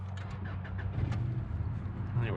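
A $300 used Subaru car's engine cranks and fires up, a steady low rumble that settles into a running idle, close by with no talk over it.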